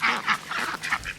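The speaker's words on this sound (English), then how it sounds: "Some grain for the golden girls, the ducks, and Tesla." Ducks and geese quacking and honking at close range while being fed grain in a farmyard, a busy overlapping chorus of repeated calls with no talk.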